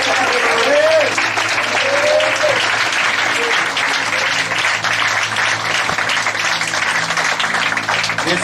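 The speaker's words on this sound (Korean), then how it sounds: "이 시간 주님께 박수로 영광을 올려드립니다." A church congregation claps together loudly and steadily for several seconds, with a few voices rising over the clapping and a low, sustained musical hum beneath it.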